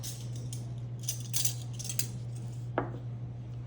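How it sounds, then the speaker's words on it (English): Metal cutlery is laid on a table while setting it for a fall place setting, with scattered light clinks and taps, one sharper clack near the end, over a steady low electrical hum. "You put your soup spoon to the right of that."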